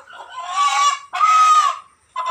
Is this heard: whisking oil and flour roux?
no